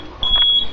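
A fire alarm panel in trouble mode emits a single steady electronic beep lasting about half a second, fairly loud against a faint background hum.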